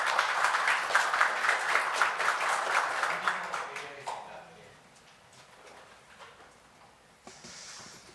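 A seated audience claps to welcome a lawmaker at a forum on youth media education; brisk applause for about four seconds, then trails off into quiet room sounds.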